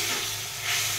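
Spices frying in a pan for a lote fish curry, giving a dense, continuous close sizzle throughout the brief moment.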